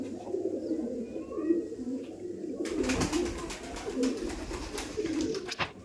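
A Rampuri pigeon coos softly and repeatedly with no voices; partway through, a brisk rustling clatter of wings or movement joins the low, rolling calls.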